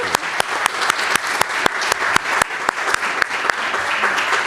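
Audience applause following an annual institute lecture: a sustained patter of clapping with several sharp, distinct claps standing out near the listener, even and fairly loud throughout.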